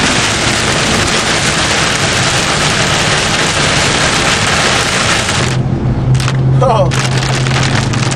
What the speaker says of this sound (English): big old fat rain